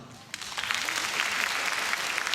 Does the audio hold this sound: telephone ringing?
no